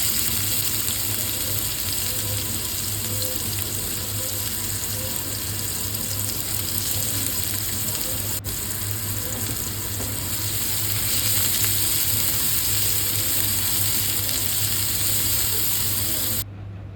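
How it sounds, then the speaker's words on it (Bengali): Onions frying in mustard oil in a frying pan, a continuous close sizzle and crackle with a low steady hum underneath, going without a break and without talk. "পেঁয়াজটা একটু লাল লাল করে ভাজা করে নিয়েছি"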